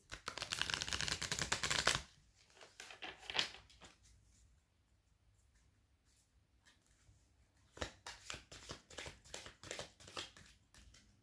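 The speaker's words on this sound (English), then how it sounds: "I'll just shuffle one more time and then I'll get into it for Aries." Tarot cards shuffled by hand close up, a dense riffling burst at the start, a quiet pause with a few soft taps, then a longer run of quick card flicks and shuffles.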